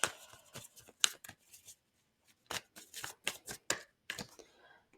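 Tarot cards are shuffled by hand in quick bursts of crisp riffling and slapping. A flurry comes at the start, then a short pause, then a second run of sharp card flicks, close and fairly quiet.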